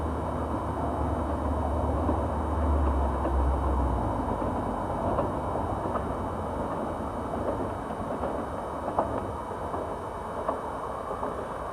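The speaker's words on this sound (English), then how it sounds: "them trains go past every half hour, 45 minutes." A train rumbles past at a distance near Haddiscoe Bridge on the Norfolk Broads, a steady low roar with faint rattling of wagons over the rails, slowly fading.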